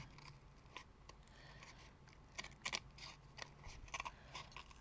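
Scissors snip away the excess material around a dried faux-embossed paper craft piece, giving a string of short, crisp cutting clicks at close range with no talking.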